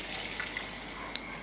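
Water runs steadily from a tap with a soft hiss while a washing machine is cleaned, punctuated by a few faint splashes and drips.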